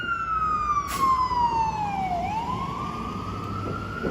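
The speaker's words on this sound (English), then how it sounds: "Let's see if they're gonna let the ambulance through." An ambulance siren wails through Manhattan traffic on a rainy night during Hurricane Elsa, one loud steady sweep falling in pitch and then rising again over a constant rumble of street traffic.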